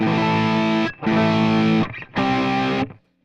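Distorted electric guitar on the humbucker pickup through a Fractal Axe Fx II, three loud sustained chords separated by brief muted gaps, with pushed mids, the last chord cut off cleanly.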